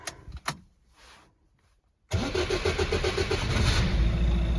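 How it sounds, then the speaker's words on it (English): A 1978 Jaguar XJ6 engine starts from cold. A few clicks and a faint whir come first, then the engine catches abruptly and settles into a loud, steady idle close to the microphone. "Right, cold start. So we'll see if she'll fire up."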